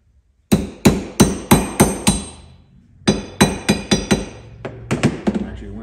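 An old socket struck with a hammer to seat a bushing during front-end suspension repair in a garage: two series of sharp metallic taps, about a dozen in all, ringing loud and close with a brief pause between the runs.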